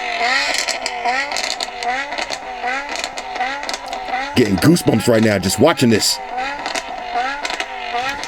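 A car engine revs hard in a few loud bursts from its exhaust, with a person talking over it and music-like tones in the background.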